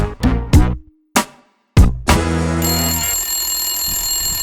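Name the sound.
telephone ringing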